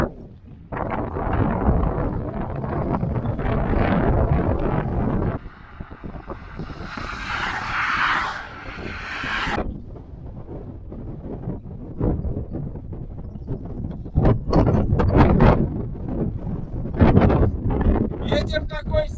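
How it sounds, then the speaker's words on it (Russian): Strong headwind buffets the microphone on a cold road ride on a bicycle, roaring loud and steady at first, easing, then gusting again with a voice heard in the wind. "Ветер такой сильный, что я даже с горы ехать не могу."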